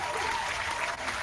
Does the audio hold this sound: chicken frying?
no